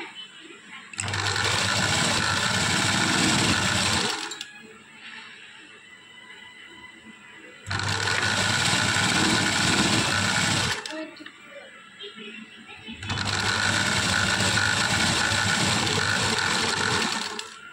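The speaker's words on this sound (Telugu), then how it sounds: "సో ఇప్పుడు స్టిచ్ వేసేసుకున్నాం కదండి." A sewing machine stitches lace piping onto fabric in three loud runs of steady whirring, each about three to four seconds long, separated by quieter pauses with faint handling noise.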